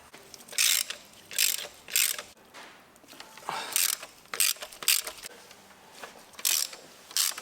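A hand ratchet works spark plugs out of the cylinder head of a 2009 Ford Fiesta 1.6 litre petrol engine, sharp rapid clicking bursts repeating in short strokes with brief pauses, close up and clear.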